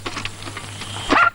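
A dog gives a few short barks and yips, with a louder sharp burst near the end, over a steady low hum.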